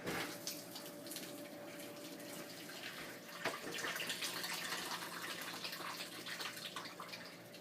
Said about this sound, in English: Now I'm going to just drain all that pasta water